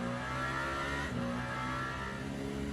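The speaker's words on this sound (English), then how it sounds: "there is something strange going on with the Toyota sounds on the replay" A Toyota race car's engine in a racing video game replay, a loud, sustained high-rev drone with harmonic whine, shifting pitch slightly as it holds near the listener.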